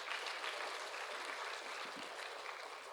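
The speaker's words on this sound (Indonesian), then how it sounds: "Tepuk tangan dulu dong ya." Steady audience applause, dense clapping throughout with no break, fairly loud and sustained for a few seconds.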